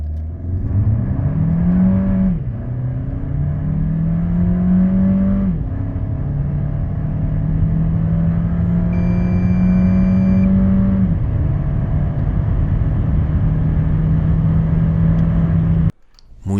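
A 2025 MG HS with a 1.5-litre turbo petrol engine (170 hp) and seven-speed dual-clutch automatic accelerates hard from 0 to 100 km/h. The loud, close engine note climbs steadily, dips at each of several quick gear changes, then cuts off abruptly.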